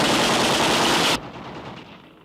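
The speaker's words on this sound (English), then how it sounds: "That was a firing squad, my dear Nielsen." A firing squad's rifles erupt in one loud, dense volley lasting about a second, then cut off abruptly into a fading echo.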